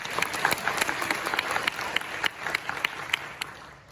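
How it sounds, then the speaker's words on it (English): An audience at the Heidelberg Laureate Forum gives a round of applause for a young PhD lecturer, a steady wash of many hands with sharp individual claps standing out. "So let's give him a round of applause."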